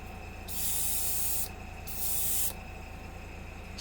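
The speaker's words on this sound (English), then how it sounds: "So I'll spray it on, let it flash dry." Two bursts of hissing aerosol clear coat spray onto a model, each about a second long, separated by a short pause against a quiet background hum.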